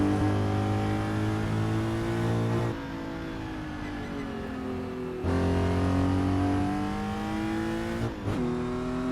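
A 1967 Porsche 911R flat-six in Assetto Corsa revs hard and steadily, easing off between pulls before climbing again, a close, continuous engine note with no talk.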